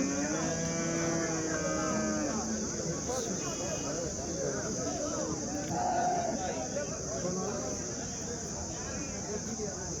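Cows moo in a long drawn-out call at the Punganur weekly cattle market, then lower bellows follow amid a busy crowd murmur, with people talking throughout and a steady high hum behind.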